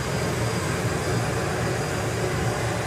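A drag racing car's turbine spools up hard, roaring loud and steady with a dense, broad rush and constant low rumble throughout, close and sustained with no talking.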